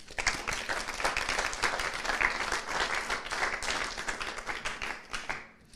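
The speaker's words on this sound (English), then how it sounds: "please give us a round of applause for our players" An audience at a pool championship trophy presentation claps in sustained applause, a dense wash of many hands that holds steady and then tapers away near the end.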